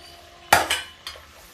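A spoon stirring rajma nimona curry with potatoes in a cooking pot gives a couple of close metallic scrapes and clinks against the pot, brief and fairly loud.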